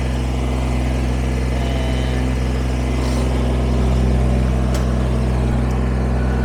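A Kubota BX23S compact tractor engine runs steadily and loudly at a constant idle-like pitch, close by, with no talking over it.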